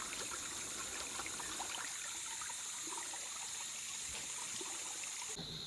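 Clean mountain water trickles and babbles along a forest pilgrimage trail, a soft, continuous stream murmur heard from close by at low level, with no voices.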